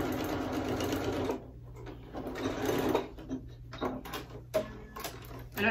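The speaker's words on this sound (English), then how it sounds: "And I'm going to sew directly on this edge line here" A longarm quilting sewing machine stitches along the edge of a fabric bin in several bursts of rapid whirring, with short pauses and a low hum between runs.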